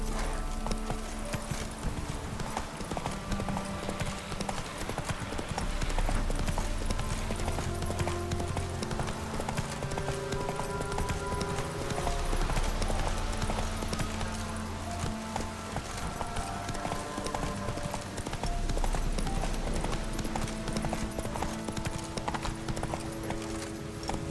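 Horse hooves galloping in The Witcher 3, a fast, steady clip-clop rhythm running continuously for the whole stretch, loud and close, with a low game ambience beneath and no talking.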